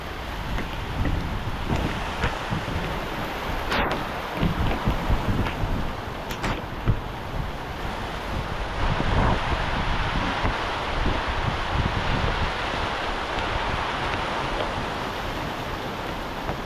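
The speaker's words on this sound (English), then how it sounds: "It's raining very heavy rain" Heavy rain falls in a steady, loud roar, with gusts of wind buffeting the microphone and a few louder knocks and taps over the downpour.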